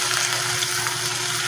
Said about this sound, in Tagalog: Binigisa ko na yung gulay guys.